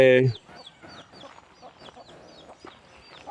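Several chickens cluck in short, repeated calls close by at a temple in Lampang, Thailand, after a brief loud burst at the start.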